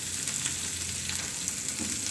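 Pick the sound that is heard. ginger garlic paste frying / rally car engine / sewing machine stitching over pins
ginger garlic paste frying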